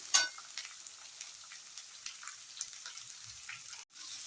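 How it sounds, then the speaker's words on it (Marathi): Thinly sliced vegetables for veg chow mein are tossed in oil on a high flame, giving a quiet, steady sizzle with soft crackles and occasional stirring clatter. "चांगल्या तेलात अशा 1च मिनटं फक्त अशा हाय फ्लेमवर हलवून घ्यायच्या आहे"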